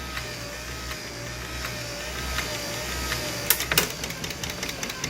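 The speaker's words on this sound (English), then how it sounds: "Starting from low position, switching to high gear, and engaging the washer pump." Electric wiper motor from a 1959 Cadillac running steadily on high speed with a low, continuous hum, joined near the end by a washer pump engaging with brief clicks and splashy bursts; no talking.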